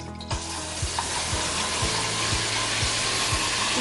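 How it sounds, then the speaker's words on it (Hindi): Garlic-ginger paste sizzles loudly as it hits hot oil in a pan, a steady bright hiss with a soft rhythmic scraping as it is stirred, close and without talk. "मैं इसमें लहसुन अदरक का पेस्ट डालूंगी जी।"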